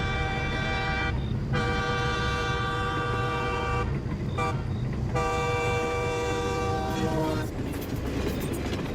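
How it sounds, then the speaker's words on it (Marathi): A train horn sounds in three long, loud blasts with short gaps between them, over the constant rumble of a moving train, used as an audio story effect. "काही वेळानंतर टीसीने सांगितल्याप्रमाणेच ट्रेनचे 3 हॉर्न ऐकू आले."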